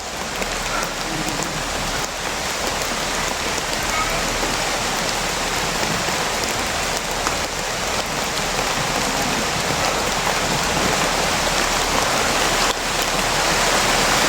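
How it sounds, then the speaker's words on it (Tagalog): Heavy rain pouring down in a dense, steady hiss of drops hitting surfaces, loud and unbroken throughout with no voices. "Malakas na yung ulan"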